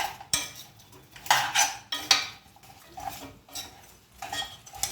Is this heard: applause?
no